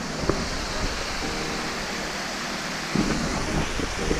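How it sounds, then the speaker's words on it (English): A small waterfall in the Quad Cities, fed by fresh rain: a continuous broadband rush of flowing water at moderate distance, with a few faint bumps and no talking. "It's got a pretty decent amount of rain and then you'll get some water flowing like we got going right now."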